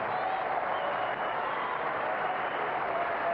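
A big tennis crowd at Kooyong applauds after Pete Sampras breaks back against Andre Agassi in 2002, dense continuous clapping that holds steady and slightly distant throughout.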